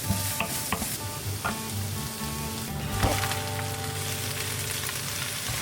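Onions browning in olive oil in a pan over medium-high heat, a steady close sizzle with scattered crackles and a stirring scrape, alone without talk.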